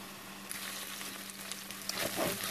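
Ground beef frying in a pan for chili beans, giving a quiet, steady sizzle with small crackles and a faint stirring scrape near the end.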